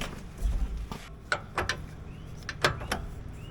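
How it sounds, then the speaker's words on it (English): Wrench working loose a tightly torqued 42 mm pitman arm nut on a Jeep Gladiator's steering box: a handful of sharp metallic clicks and ratcheting snaps spread unevenly over a few seconds, close by, over a low rumbling background. "first thing we got to do is get this pitman arm nut off"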